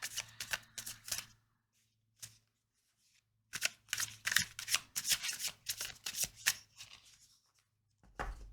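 A Tarot de la Nuit tarot deck is shuffled close by in quick bursts of crisp riffling and slapping card noise, separated by short pauses, with a final thud at the end.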